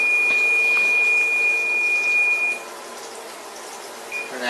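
Cooking timer for burgers in a video game, a sustained high electronic beep tone lasting a couple of seconds, then cutting off, followed by a couple of brief short chirps over a faint background hum.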